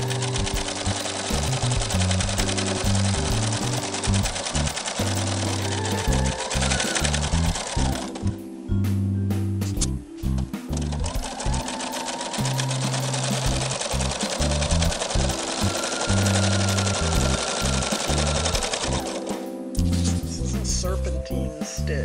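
A sewing machine quilting a serpentine stitch runs in long rapid bursts, a loud close mechanical chatter with brief pauses and restarts along the way.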